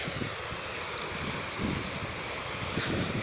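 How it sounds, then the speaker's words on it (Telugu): Sea waves washing against rocks at a beach, a low continuous rushing wash with soft surges, fairly faint and steady, blended with wind noise and no voices. "మనం ఈరోజు ఈ బీచ్లో ఉన్నాం. సముద్రం చూసారు కదా, ఈ రాళ్ళ మీదకి వచ్చేది"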